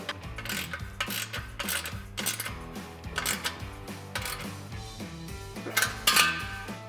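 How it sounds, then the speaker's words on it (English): A 13mm socket wrench tightening an exhaust clamp on a GMC Sierra 2500 Flowmaster dual exhaust: rapid, quiet metallic ratchet clicks in short bursts, close by, with no talking. "Tighten this clamp down."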